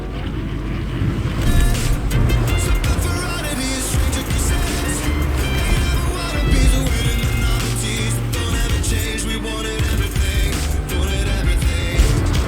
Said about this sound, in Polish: Nie wiem, brać auto? Dobra, biorę. Najwyżej dużo hałasu zrobię.